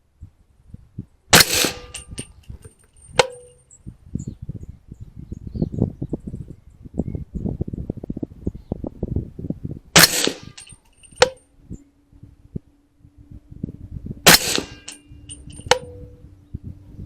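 .300 Blackout subsonic rifle shots fired outdoors at a target 500 yards away: three sharp, loud reports spaced several seconds apart, each followed by a fainter metallic ping, with insects and rustling in between.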